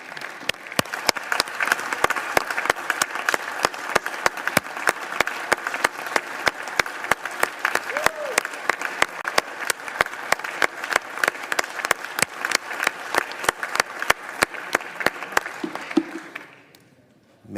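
Sustained applause from the audience in the U.S. Senate chamber, a dense patter of many hands with sharp individual claps standing out, steady for about sixteen seconds before quickly dying away at the end.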